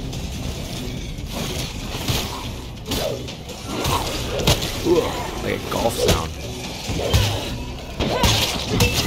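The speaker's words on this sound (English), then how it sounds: "This mace makes a pretty cool sound." A mace in a zombie survival video game lands repeated heavy smashing blows amid mechanical clatter and crashes, with players chatting and shouting over the action.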